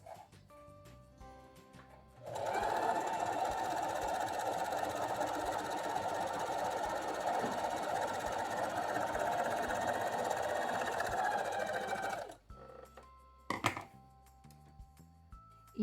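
A domestic sewing machine stitches knit fabric in one steady whirring run of about ten seconds, close and fairly loud, with small clicks and handling noises before and after.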